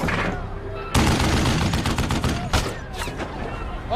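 Dense gunfire as a SWAT team shoots back at an ISIS sniper in the war film Mosul: sharp, loud bursts of rifle shots that start abruptly and keep going, with a second hard volley near the end.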